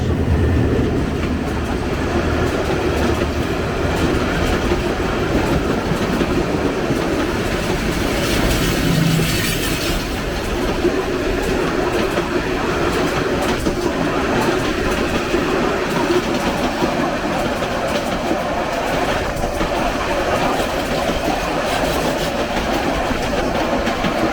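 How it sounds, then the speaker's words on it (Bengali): Jayantika Express train running through Banani station without stopping, a loud continuous rumble and rattle of passing carriages lasting throughout, with faint clickety-clack. "Banani station থ্রুপাস Jayantika express 2610।"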